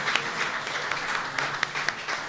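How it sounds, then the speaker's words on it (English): A round of applause for Honor Flight veterans' guardians at a Vice President's event, with moderate clapping from a modest group and a few sharper individual claps standing out above the steady patter. "How about a round of applause for these great guardians up here?"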